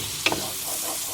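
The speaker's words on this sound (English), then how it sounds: "we're just going to cook this all off until that onion is nice and translucent and starting to brown just a little bit" Diced onion frying in a pan for a cheap family weeknight dinner, a brief close sizzle with a quick stir scrape near the start.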